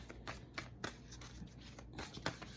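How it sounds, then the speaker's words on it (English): A deck of tarot cards being shuffled in quiet, brisk bursts of papery riffling and flicks, faint and close with no voices. "I'm going to keep shuffling"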